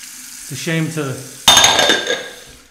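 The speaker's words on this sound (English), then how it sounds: "All right, let's rinse that off. Rinse out the brush and the bowl." A brief spoken phrase is followed by a sudden rush of tap water over a shaving brush and lather bowl at a sink, loud and close with light clinks, fading over about a second.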